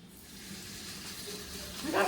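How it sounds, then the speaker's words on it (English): A single chicken wing dropped into hot sesame oil for teriyaki wings gives a steady, close sizzle and hiss that swells louder near the end as the oil bubbles up. "I'm gonna drop one down in here and see if I get a good sizzle."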